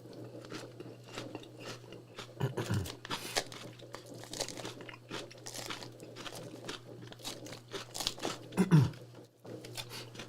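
Crunchy food with banana peppers being chewed close up, a steady run of crisp bites and crackly crunches with a few louder chomps, no talking.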